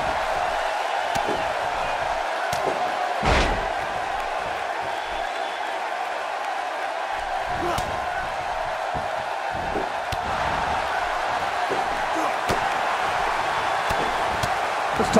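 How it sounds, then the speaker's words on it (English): Loud arena crowd at a Toronto wrestling show in WWE 2K18, a steady roar of cheering and noise held throughout with scattered claps and thumps, no clear talk over it. "I don't think I've heard a Toronto crowd this loud"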